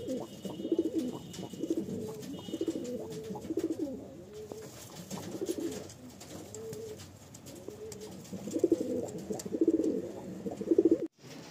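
Pigeons coo softly in low, rolling bursts across a loft, several birds overlapping at moderate distance with a brief cut near the end.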